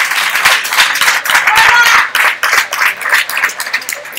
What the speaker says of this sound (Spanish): Un aplauso a este muchacho.